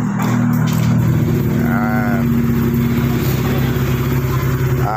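A Honda Click i125 motorcycle engine idling steadily with a low throbbing hum after starting, close and loud, with a brief whirring sound partway through.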